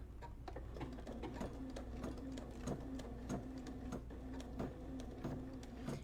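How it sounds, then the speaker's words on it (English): Home embroidery machine stitching a design with its presser foot lowered, a steady rapid mechanical whir and needle clatter with a low hum and regular ticking pulses, close and continuous. "once it starts stitching, and I know that everything looks okay, I can go ahead and speed it up"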